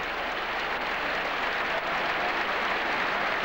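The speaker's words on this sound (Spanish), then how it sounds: "Rafael Acarrá aplaudiendo" Steady, dense applause from a large crowd in Madrid's bullring, Plaza de Toros, as Raffaella Carrà claps along, a continuous wash of clapping with no break.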